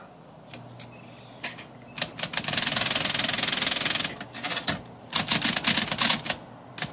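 Pink electric Smith Corona vintage typewriter running close up, with a steady motor hum and bursts of sharp rapid key strikes and carriage clacks, no talking.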